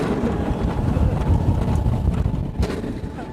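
On the Fire Runner RMC Raptor roller coaster at Lost Island, rushing wind and track rumble roar steadily through the steep drop, loud and close, with a brief clatter near the end.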